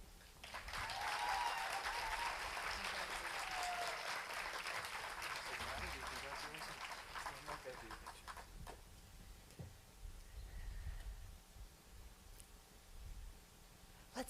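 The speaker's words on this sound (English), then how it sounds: "Let's give another round of applause for our class of 2025" Graduation ceremony audience clapping for a graduating class, a broad burst of applause at first that slowly thins and fades over about fourteen seconds, with faint background voices.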